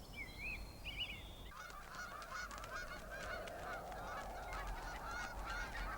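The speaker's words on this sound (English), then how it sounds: "The geese are nearing the end of their journey north." A flock of geese migrating north in Alaska honks repeatedly in overlapping calls, steady and fairly close, over a constant low background rumble.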